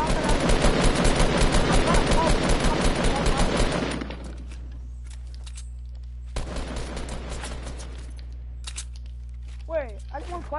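Rapid automatic gunfire in the Fortnite video game, a dense loud burst for about four seconds, then a second quieter stretch of shots, with game effects and a voice talking near the end.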